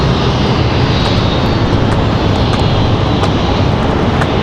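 Southwest Airlines jet, flight 1010 bound for Tampa, at Raleigh-Durham International Airport, making a steady, loud broadband engine roar that holds an even level throughout with no voices.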